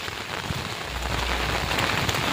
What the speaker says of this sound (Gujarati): એટલો વરસાદ પડ્યો છે